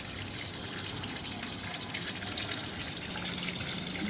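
Water runs steadily as a vessel fills, a continuous hissing gush heard close and alone in a home setting, with no talking.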